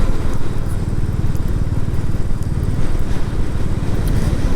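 A Royal Enfield Classic 350 motorcycle riding the Via Gellia, its single-cylinder engine a loud, close, continuous low thumping rumble with a steady rapid pulse throughout.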